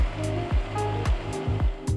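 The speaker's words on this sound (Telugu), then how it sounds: "ఎండుమిరపకాయని నానబెట్టుకున్న నీళ్లు సరిపడంత వేసుకొని మెత్తటి పేస్ట్లా రుబ్బుకోవాలి" A mixer grinder whirs continuously while grinding soaked dry red chilies with their soaking water into a smooth masala paste, with a steady hum and periodic swells and dips as the load shifts.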